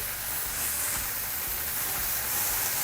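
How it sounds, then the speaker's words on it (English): Bok choy with ginger and jalapeno searing in a hot wok gives a steady, dense hiss of steam and sizzle, close and continuous, with no talking. "Let it char. Let it sear. That's what the wok is there for."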